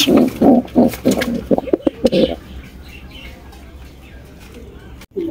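A pair of white Danish pigeons coo in several close, loud throaty bursts over the first couple of seconds, then the sound drops to quiet room noise with a brief knock at the end.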